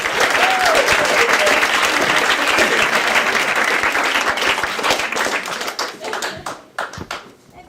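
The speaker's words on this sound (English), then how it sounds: "Start clapping right now." Comedy club audience at Gotham Comedy Club breaks into loud, dense applause that holds steady for several seconds, then thins into scattered claps and fades out.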